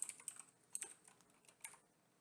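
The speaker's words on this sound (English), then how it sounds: "by typing print Hello World" Quiet computer keyboard typing, a quick run of light key clicks with brief pauses, close by, while entering QBasic code.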